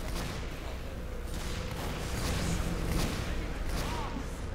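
Dense, continuous gunfire and explosive bursts from a Team Fortress 2 Saxton Hale match, a steady broadband barrage with repeated sharp shots throughout and no pauses.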